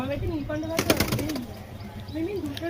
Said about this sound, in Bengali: অনেক পায়রা আমাদের বাড়িতে, এগুলো দাদা পোষে সব